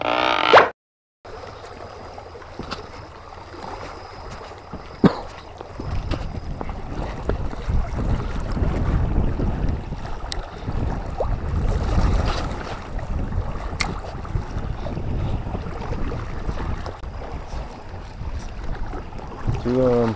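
A strong night wind blows against the current during bigfin reef squid fishing, a loud, continuous rumble buffeting the nearby microphone, with a few faint knocks and plops.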